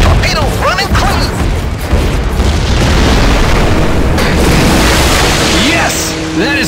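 A torpedo strikes a submarine in the Heroes of the Pacific flight game, giving a sustained loud booming explosion with rumbling debris over continuous battle noise and engine drone, and a cry of triumph heard amid the din.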